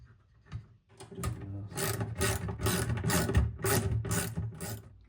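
Lock nuts being tightened onto the metal posts of a Star Wars pinball cabinet speaker, a close series of quick ratcheting, scraping clicks in regular bursts after a faint thud.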